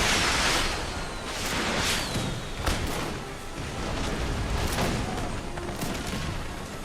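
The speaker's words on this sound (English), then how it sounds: "some brutal shots into the square there" Musket volleys crash out in the Napoleon: Total War video game battle, fired into an Old Guard infantry square, as repeated booming fusillades roll one after another over a constant loud battlefield din, with no talking.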